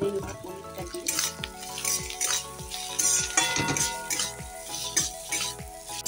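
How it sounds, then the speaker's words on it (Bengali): Paneer frying with teasel gourd seeds in a pan, a steady close sizzle under repeated stirring scrapes and clinks of a spoon against the pan. "কাঁকরোলের দানার মধ্যে আমি পনিরটা দিয়ে দিচ্ছি, দিয়ে আমি এবারে ভেজে নেব পনিরটা দিয়ে।"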